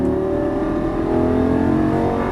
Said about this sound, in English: This thing is just sucking down air and fuel. It just sounds incredible.